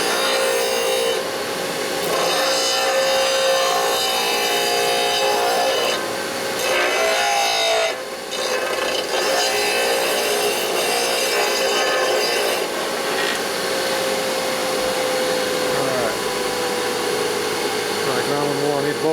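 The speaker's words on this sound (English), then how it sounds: "we got to grind a little bit more right in here to make it fit the drum better" Abrasive grinding of brake shoe lining so it fits the drum of a 1958 Harley-Davidson Panhead 74ci, a steady, continuous scraping rasp that runs unbroken with only brief dips.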